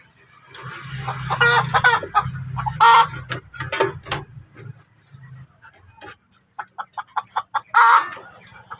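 Chickens cluck loudly and nearby in short, choppy bursts, with a few brief squawks and a low hum underneath.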